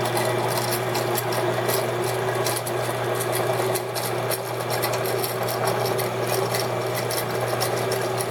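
An ENCO 7x12 horizontal band saw with a 4-speed belt drive, hydraulic down feed and variable speed runs and cuts, giving a steady, continuous mechanical whir with a low hum underneath.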